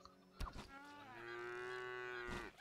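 Cows in the video game Craftopia let out a long, drawn-out moo, loud and close, with a brief thump before it.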